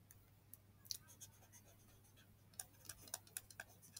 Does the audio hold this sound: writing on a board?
yes